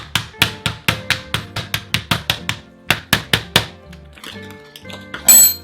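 An old hammer pounds raw chicken inside a plastic bag to flatten it for a grilled spicy chicken sandwich, about sixteen sharp, fairly even thuds with a slight clink, then a few softer knocks and rustling at the end.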